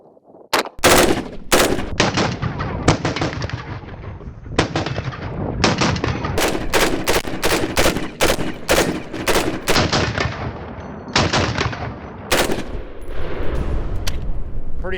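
HK 416 rifle fired in rapid bursts and strings of shots, loud sharp cracks repeating across the whole span with brief pauses between volleys, outdoors on a range.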